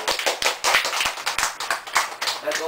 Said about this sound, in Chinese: 我们给自己一个掌声。